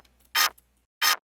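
Mechanical-sounding electronic snare layer sample from a dariacore kit, two short bright crackly bursts spaced about half a second apart, heard alone and close with a faint low hum at the start.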